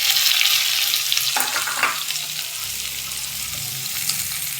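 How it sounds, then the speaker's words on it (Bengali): A bowl of onions tipped into very hot oil sizzles loudly and continuously, a dense close frying hiss that settles slightly after the first burst, with a few faint scrapes underneath. "তেলটা খুব গরম হয়ে গেছে। এবারে ওর উপর দিয়ে দিচ্ছি এক বাটি পেঁয়াজ।"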